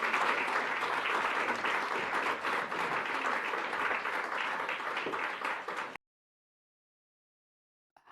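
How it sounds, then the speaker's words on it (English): Steady applause from a press conference crowd after a speech on autism, dense and sustained for about six seconds before cutting off abruptly into silence. "Who is clapping?"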